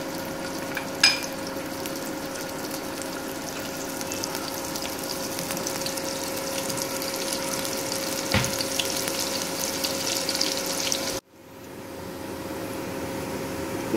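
Oil sizzles and crackles steadily as onions fry in a pressure cooker, with a few clinks of utensils, before the sizzling abruptly drops away near the end.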